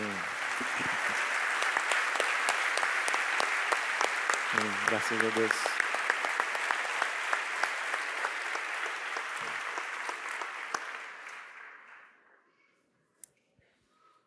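A church congregation at an Easter 2019 service applauds steadily and warmly for about twelve seconds before the clapping fades away; a voice briefly speaks near the end.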